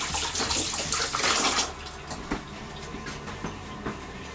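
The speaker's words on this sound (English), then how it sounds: "Right, so I'm going to wash my hands." Hands washed under a running kitchen tap, a steady rushing stream that is louder at first, then softer with small splashes and clunks, no talking.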